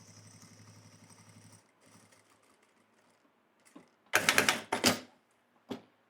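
A domestic sewing machine runs in a short steady whirring burst of stitches at the start, then a brief second run, followed by louder sharp handling knocks and rustles near the end.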